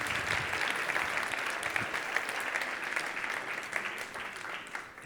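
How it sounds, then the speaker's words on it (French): Audience applause at a French engagement celebration, a thick steady burst of clapping from a crowd that stays full for most of its length and tapers off toward the end, with no talk over it. "tu dis un mot, ils applaudissent maintenant"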